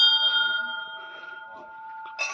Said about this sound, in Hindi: मंदिर की घंटी